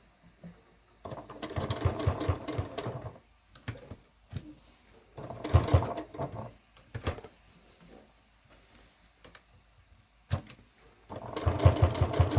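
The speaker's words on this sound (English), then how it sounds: "Okay, so we're just sewing around each petal" A Martelli Sew and Show Box sewing machine stitching around fabric petals, running in several short bursts of rapid mechanical whirring separated by pauses and soft clicks, close and alone.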